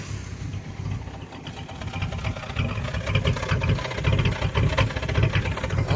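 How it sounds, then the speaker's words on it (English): A Chevrolet S10 Blazer 4x4 engine runs unevenly and stumbles, a loud, close, low rumble that surges and sags irregularly for the whole stretch, with no voices. "The engine's stumbling."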